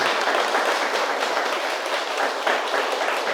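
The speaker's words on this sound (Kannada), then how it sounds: "ಜೋರಾಗಿ ಚಪ್ಪಾಳೆ ಹೊಡಿಬೇಕು" Dense, even applause from a large audience at a Kannada talk on meditation and the Buddha's teachings, a continuous wash of many hands clapping at steady loudness throughout, with no voice above it.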